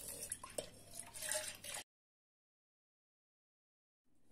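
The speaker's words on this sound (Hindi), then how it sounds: "इसमें अब हम डाल देंगे हम ये सारा मट्ठा।" Buttermilk is poured into a glass for homemade lassi, making a brief soft liquid splash and trickle that lasts under two seconds before the sound drops to silence.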